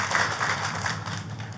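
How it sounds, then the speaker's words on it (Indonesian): A church congregation gives a short burst of lively applause for God during a sermon on divine healing. Steady, even clapping from many hands sounds close and moderately loud, with no speech. "tepuk tangannya yang paling meriah buat Tuhan kita"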